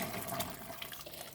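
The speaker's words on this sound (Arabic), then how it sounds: "وراح اضيف مية السلق" Chard cooking water pours into a pot of seasoned ingredients for a spinach stew, a soft, steady splashing stream lasting just over a second, close and fairly quiet with no talking.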